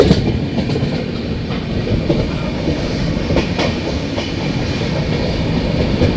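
The Sealdah–New Delhi Rajdhani Express runs at speed, its carriage wheels rumbling loudly with a steady clickety-clack heard from inside a 2AC coach, and no voices.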